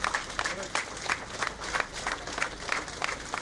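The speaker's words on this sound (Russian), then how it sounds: "В последний путь писателя проводили аплодисментами" Applause from mourners at the Moscow farewell for writer Fazil Iskander: steady, moderately loud clapping from a crowd, sustained throughout with irregular peaks, a little murmuring mixed in.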